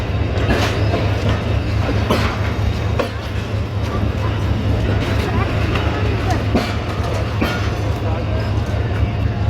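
Passenger train at Kotri Junction, a loud steady low rumble with rhythmic wheel clicks and occasional sharp metallic knocks across the whole stretch, heard from close by on board, with a voice speaking over it.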